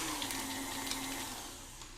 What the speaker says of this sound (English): And just give that a quick whisking.